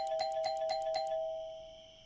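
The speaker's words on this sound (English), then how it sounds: "you don't need to ring the doorbell that many times" Doorbell in an animated short rung repeatedly, about four quick chimes in a row, with a clear tone that then rings on and fades out, no talk.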